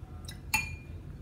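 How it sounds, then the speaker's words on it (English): A glass water dish clinks twice in quick succession, bright and fairly close, over a quiet background hum with no talking. "I do use a glass dish for my water, so you may hear me clink it on occasion"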